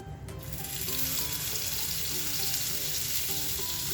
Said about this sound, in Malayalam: അപ്പം നമുക്ക് ഇതൊന്ന് കോട്ട് ചെയ്തതിന് ശേഷം ഇതിലേക്ക് വെച്ചിട്ട് ഒന്ന് നമുക്ക് ഫ്രൈ ചെയ്തെടുക്കാം